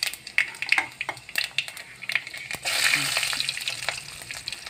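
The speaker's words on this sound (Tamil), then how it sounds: "கடுகு போடுறோம். வெந்தயம், சீரகம் 3 போட்டு நல்லா பொரிய விடுவோம்." Mustard seeds, fenugreek and cumin frying in hot oil in a pan, crackling and popping in quick irregular bursts, then settling into a steadier sizzle, close and fairly loud.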